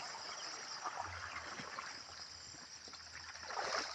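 Water drains from a farm canal beside bitter gourd plants, a soft continuous trickling and gurgling flow that stays faint and steady, with a low rumble underneath and no voices.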